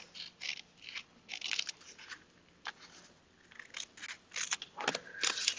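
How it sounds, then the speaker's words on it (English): Scissors snip through paper in a series of short, crisp cuts with small pauses between them, close and fairly quiet, while a planner is trimmed; no one talks. "Cut this."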